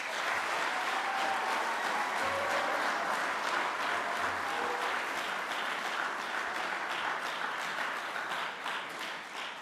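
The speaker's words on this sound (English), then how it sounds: "Again, another round of applause." An audience applauding at a civic association candidates night, a sustained wash of clapping from many hands that carries on steadily and tapers slightly toward the end.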